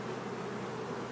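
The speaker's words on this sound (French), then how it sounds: "Il y a des abeilles dessus" Honeybees on a frame lifted from a hive, their steady dense buzz filling the air close by without pause, no voices over it.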